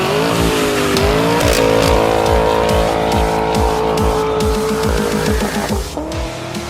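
A 1973 Corvette Stingray with a custom dual exhaust and Flowmaster 40 Series mufflers revs hard through repeated rising gear pulls, loud and close, with a clear burst of tire squeal amid the engine roar.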